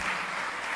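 A church congregation claps together in praise during a live service, a brief, even wash of many hands heard close.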